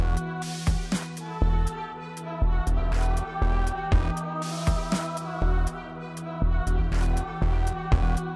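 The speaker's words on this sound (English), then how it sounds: "after basically 8 bars, we get the drums that come in. It's a new drum pattern." Hip-hop beat with a new drum pattern of punchy kick, booming 808 and sharp snare hits in a steady rhythmic loop over a sustained ambient texture, loud and upfront.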